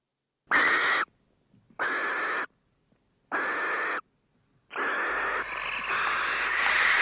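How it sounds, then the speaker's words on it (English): A barn owl screeching in harsh, raspy bursts: three separate shrieks of about half a second each with silent gaps, then a longer, denser screech that rises in pitch at the end. The calls are loud and clear, with a low hum under the last one. "Likely a barn owl."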